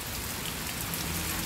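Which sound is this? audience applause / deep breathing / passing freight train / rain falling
rain falling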